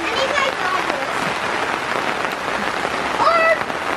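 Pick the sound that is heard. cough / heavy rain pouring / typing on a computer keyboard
heavy rain pouring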